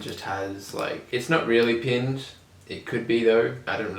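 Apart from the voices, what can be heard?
No everyday noise stands out behind the speech.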